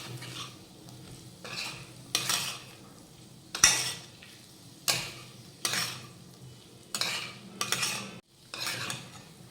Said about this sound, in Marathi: आता यावर घालूयात पाव चमचा हळद त्यानंतर साठवणीतलं तिखट एक चमचा घालूयात मिक्स करून घेऊयात